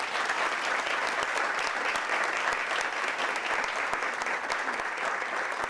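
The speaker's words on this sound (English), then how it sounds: "Let's give them a round of applause." An audience at a middle school event claps for introduced guests, a thick unbroken wash of many hands applauding at even strength from start to finish, with nobody speaking.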